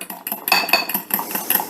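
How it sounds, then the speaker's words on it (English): Bisquick batter for a lasagna pie being whisked in a bowl, a quick steady run of rhythmic clinks and scrapes of the whisk against the bowl, close and fairly loud. "And then you get your Bisquick mixed in."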